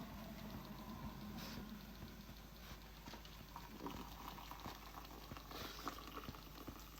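An electric tea kettle boils water with a steady, rushing rumble and dense bubbling that stays constant and close throughout, with no talking.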